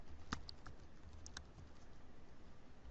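Text being typed on a computer keyboard, a few quiet, scattered key clicks close by against a faint background hiss.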